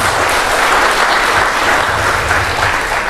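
Steady, loud applause from a seated audience at a public forum fills the moment with a dense, continuous wash of clapping, unbroken throughout.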